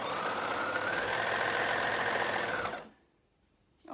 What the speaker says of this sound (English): if I trim a little bit off with my overlocker, it guarantees that I have a nice straight edge